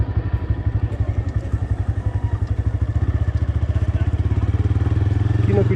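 A motorcycle engine chugs at a border crossing with a loud, rapid, even pulsing that holds steady and close throughout. Voices murmur underneath.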